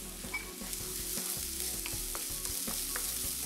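Roughly grated cauliflower sizzles steadily in a pan over lowered heat, a continuous dense frying crackle with occasional stirring scrapes and small pops, close and fairly loud throughout.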